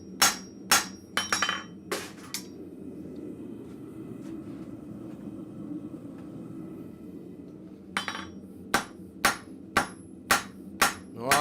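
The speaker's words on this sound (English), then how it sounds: "I still keep on going back to the cross peen." Sharp metallic strikes of a blacksmith's cross peen hammer ring out in quick clusters of several blows at a forge, separated by a pause filled with low shop rumble, then resume in a steady series of evenly spaced hits.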